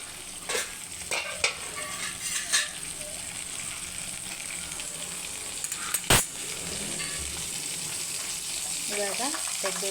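Mustard seeds hit hot oil in a pan for a beans palya, giving a soft continuous sizzle with occasional spoon clinks and scrapes against the pan, close but fairly quiet.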